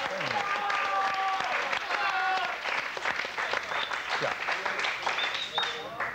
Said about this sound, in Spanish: Eso también creo que merece un fuerte aplauso,